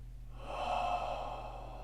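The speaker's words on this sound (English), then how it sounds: "Now inhale." A single deep, steady inhale during a guided breathing exercise, breathy and close, swelling over about a second and a half with no talk.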